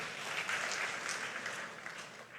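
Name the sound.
audience applause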